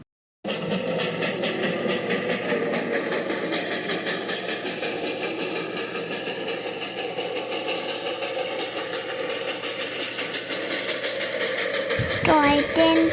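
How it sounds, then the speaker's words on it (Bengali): The Darjeeling toy train rumbles past close by with a steady, loud engine drone that holds for over ten seconds, then shifts abruptly at the end. "টয় ট্রেনটা ওপর থেকে নিচ ঘুরে ঘুরে চলতে লাগলো।"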